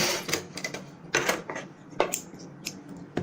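Short, stop-start bursts of a sewing machine stitching down a folded neck strip on a high-neck kameez, with quick clattering runs separated by brief pauses, close and fairly loud.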